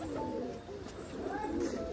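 Pigeons perched at a friend's house pigeon loft give soft, low cooing calls, a faint continuous murmur at moderate distance with no talk.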